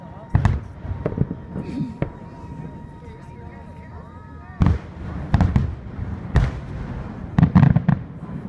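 Fireworks bursting over a park display at Delgrosso Park, Pennsylvania, in 2017: a run of sharp, loud booms and crackles at irregular intervals, with a cluster of bangs near the end and voices murmuring from the crowd in between.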